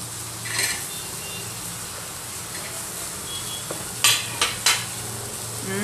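Garlic dropped into lightly sautéed onion in a pan for egg curry, giving a steady low sizzle with a few sharp clatters of a utensil near the end, and no one talking.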